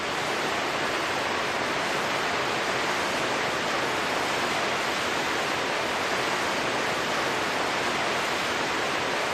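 A waterfall on the river below a dam in the Black Canyon of the Gunnison roars as a steady, dense rush of falling water, loud and close throughout with no pauses.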